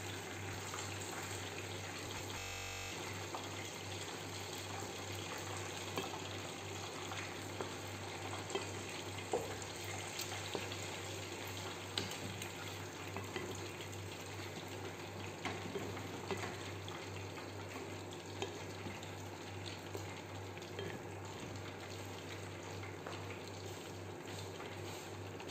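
A pot of vegetables bubbles and sizzles continuously at low volume, a steady simmering hiss with faint bubbling.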